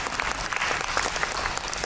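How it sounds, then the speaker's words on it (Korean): Applause from a lecture audience at a heritage city forum talk in Suwon, a steady dense patter of many hands clapping throughout, moderately loud with no talk over it. "이 정도면 박수 한번 주셔도 괜찮습니다."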